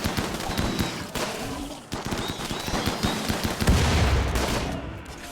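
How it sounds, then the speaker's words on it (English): Bursts of rapid gunfire and a grenade blast in the RimWorld video game, dense rattling volleys with short gaps and a heavier boom near the end, loud and continuous with no talk. "we're gonna throw the grenade too far up."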